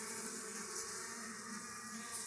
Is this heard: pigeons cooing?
no